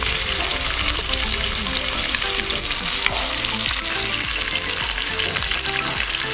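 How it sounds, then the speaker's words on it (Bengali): Sliced onions sizzle loudly and steadily in hot oil in a pan, with occasional stirring scrapes and clinks, while Darjeeling local food is cooked live; the frying fills the whole stretch without talk. "এবার আমরা পেঁয়াজগুলো দিয়ে দিচ্ছি"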